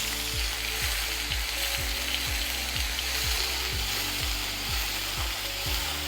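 Ginger garlic paste sizzling in a hot pan while being slowly stirred, a continuous close fry hiss under music, with regular scraping strokes of the spoon about twice a second.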